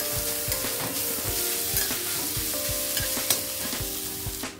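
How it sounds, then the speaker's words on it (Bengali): Half-ground green peas fry in hot oil as they are stirred steadily, close sizzling broken by a regular rhythm of scraping spatula strokes against the pan. "ভালো করে মটরটাকে তেলের মধ্যে ভেজে নিতে হবে, এইরকম নাড়াচাড়া করে করে।"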